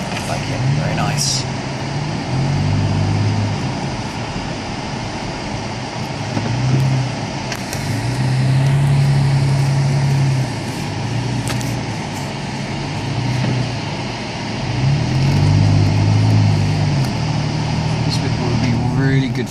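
A quad bike engine drones steadily while riding, its pitch rising and falling in repeated surges, loud and close with wind noise across the whole stretch.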